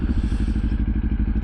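A motorcycle fitted with an EXAN X-Cape full exhaust system on an ADV-R adventure bike build gives a close, steady, throbbing low exhaust beat with a rapid even pulse and no talking.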